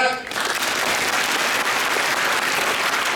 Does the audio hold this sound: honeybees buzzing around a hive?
no